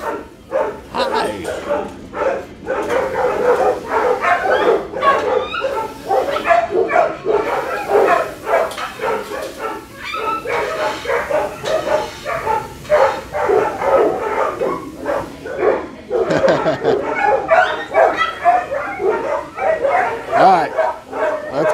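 Many dogs at an animal shelter bark, yip and whimper continuously in a loud, echoing kennel row, with a person talking amid the clamor.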